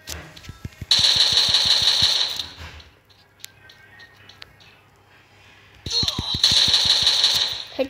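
Rapid automatic gunfire in the Free Fire mobile battle royale game, two long bursts of closely spaced shots separated by a quieter pause with scattered single shots, loud and near.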